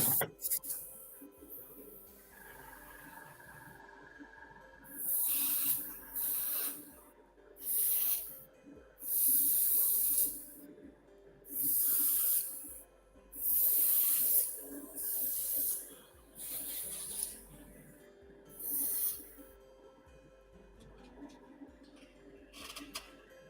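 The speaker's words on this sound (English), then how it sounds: "Spraying the leaves black." Aerosol spray paint hisses in about eight loud, separate bursts as the leaves on an F4U model are sprayed black, with quiet pauses between.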